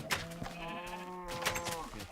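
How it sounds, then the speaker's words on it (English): A sheep in the video game Minecraft bleats twice, a short wavering cry near the start and another toward the end, close and clear over a steady background hum. "And we have chickens, we have sheep,"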